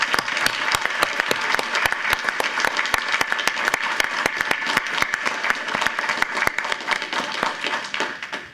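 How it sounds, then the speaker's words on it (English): An audience at a school board meeting gives a round of applause, a dense crowd of hands clapping with sharp individual claps standing out, steady and close for several seconds before tapering off at the end. "So please give this school system a round of applause"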